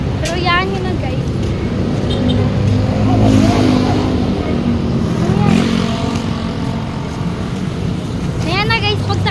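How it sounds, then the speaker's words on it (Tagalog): A motorized tricycle rides through traffic, its engine droning and revving steadily with passing vehicles around it, while voices talk over the ride throughout. "Ayan na guys, pagsakay namin sa tricycle."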